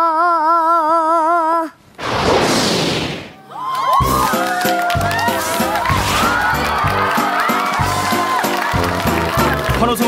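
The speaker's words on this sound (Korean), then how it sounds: "환호성을 받으며 등장한 근우" Audience cheering swells in a short roaring burst as young contestant Geun-woo enters on the Korean TV singing show Voice Kids, after a tonal jingle and before upbeat stage music with a thumping beat takes over.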